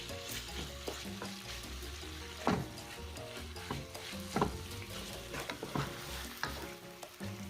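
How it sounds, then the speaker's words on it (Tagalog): Pork sautéing in oil in a wok sizzles steadily up close, with a spatula scraping and stirring in irregular strokes and occasional louder clatters. "In a clean wok, just pour in the oil. And start sauteing our pork."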